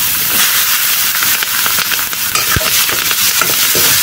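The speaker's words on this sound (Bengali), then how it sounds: "এখন কড়াই দিয়ে দিব কাঁচামরিচ আর পেঁয়াজ" Onion and green chilies sizzle and hiss loudly in a hot pan (kadai) for a village-style dried fish dish, with occasional stirring clinks and scrapes over the steady frying.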